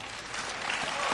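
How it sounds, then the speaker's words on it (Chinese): An audience bursts into applause for Hou Zhen, grandson of xiangsheng master Hou Baolin, during a group comic crosstalk performance; steady, dense clapping swells slightly and fills the hall with no voices over it. "大家给侯先生鼓掌了"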